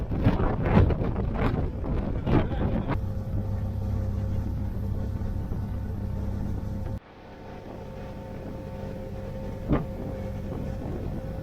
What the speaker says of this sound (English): I'm worried about the wind messing my hair up.